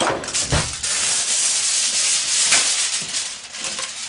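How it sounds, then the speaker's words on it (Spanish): Aluminium foil pulled out and handled to cover a carrot cake before baking, giving close, loud crinkling and rustling with sharper crackles near the start and middle. "Ahora cogemos papel de aluminio"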